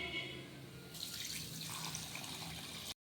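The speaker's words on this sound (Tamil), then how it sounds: "இப்போ தேவையான அளவு தண்ணி ஊற்றிக்கலாம்" Water runs steadily from a tap into chapati kurma in a home kitchen, a continuous splashing stream that starts after a quiet moment and flows for about two seconds before stopping abruptly.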